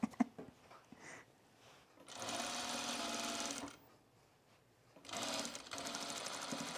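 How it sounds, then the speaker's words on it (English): A sewing machine runs low on bobbin thread while stitching a jacket, sounding as two quiet bursts of rapid, rhythmic stitching separated by a pause, with soft handling noise in between. "It sounds like I've run out of bobbin"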